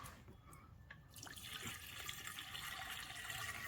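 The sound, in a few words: water being poured into car coolant reservoir to test for a leak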